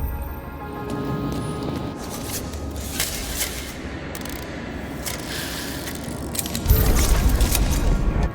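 Mechanical clicks, creaks and a grinding rumble come from a chandelier being hoisted by a mechanism in a video game, continuous and fairly loud. The sound swells into a heavier low rumble near the end.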